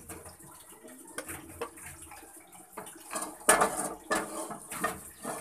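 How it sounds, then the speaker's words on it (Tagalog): Vegetables rinsed of salt in a basin, with water splashing and sloshing, dishes knocking faintly, and a louder burst of splashing midway, all close by with no talking. "Hugasan natin, tanggalin natin yung asin kasi maparat."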